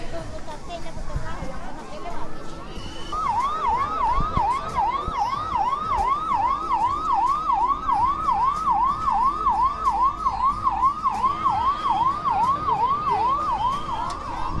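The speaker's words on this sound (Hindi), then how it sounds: "दूर से सायरन की आवाज़ आ रही होगी।" A police siren wails, rising and falling in a fast, regular cycle, clear and continuous over road traffic noise in Prayagraj during the Maha Kumbh.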